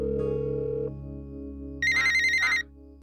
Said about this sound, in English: So he took out his cell phone and speed dialed Pinky.